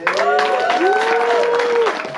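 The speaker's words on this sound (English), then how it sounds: "I want you guys to give a big round of applause for my man," Crowd at a music video release party applauding an artist, clapping mixed with loud cheers and sustained vocal whoops throughout.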